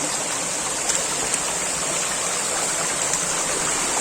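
A waterfall on a rocky river rushes in a steady, dense roar of falling water. The sound is close and loud and holds at an even level throughout, with no voices.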